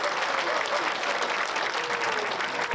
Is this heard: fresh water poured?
no